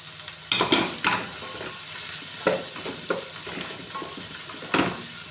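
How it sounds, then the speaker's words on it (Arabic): Onions and meat sautéing in a pan, with steady sizzling broken by several louder bursts of stirring and scraping, close and without talk. "هشوح بقى كويس قوي."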